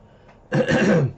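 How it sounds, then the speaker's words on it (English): A single throat clearing, close and fairly loud, a rough raspy burst lasting about half a second after near silence. "let me clear my throat with a bit of coffee"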